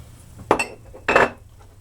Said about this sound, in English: I'm gonna bowl lather it a little bit